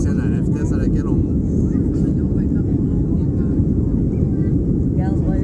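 A small airplane climbing after takeoff toward Cuba, heard from inside the cabin as a loud continuous low engine roar, with brief passenger voices rising faintly above the drone.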